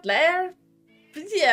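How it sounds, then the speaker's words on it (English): A pet cat meows loudly in short harmonic bursts, first a long cry then a second after a pause, close to the listener with faint room hum between. "that is our cat having a fit"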